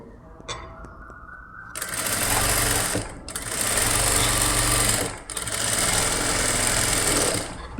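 A sewing machine runs in three continuous bursts while stitching the canvas-backed neckline of a blouse, a steady high-speed whirring motor with brief pauses between runs and no talk.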